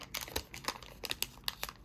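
Plastic packaging of a phone grip crinkling as it is unboxed, a close string of quiet, irregular crackles and rustles.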